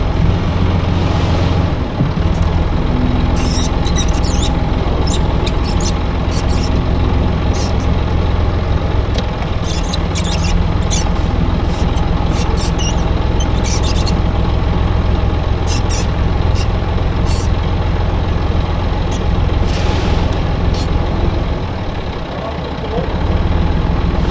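A truck engine runs steadily while manoeuvring during work with a new Agroliner TKD, a loud, low rumble throughout with sharp clicks and clatter on top and voices talking briefly.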